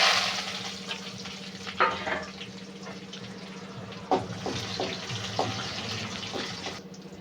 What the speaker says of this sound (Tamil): இப்போ வந்து கருவேப்பிலை, வெங்காயம் போட்டுக்கலாங்க